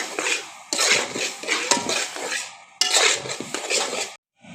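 A spoon scrapes and clinks against a pan while jaggery is stirred into roasted semolina for halwa, in two bursts of close, busy metallic stirring separated by a short pause.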